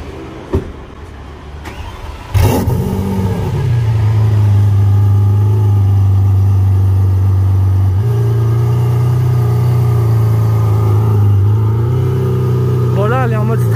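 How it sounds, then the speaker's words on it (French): Lamborghini Aventador SVJ with non-stock exhaust in a Monaco car park, starting with a sharp loud crank and bark, then settling into a deep, steady, close idle with small rises in revs, under light voices. "Le petit start-up de la SVJ."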